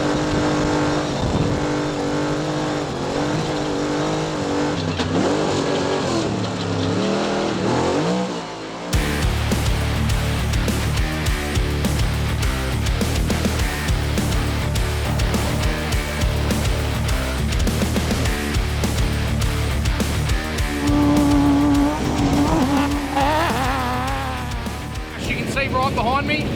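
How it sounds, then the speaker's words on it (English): Trophy truck engine warming up at the 2022 Don River Dash drag races in Bowen, Australia: a loud, rough idle that steps up into heavier, throbbing revving, close by and continuous, with someone talking over it. "Right behind me, the 484 truck. We're warming that up."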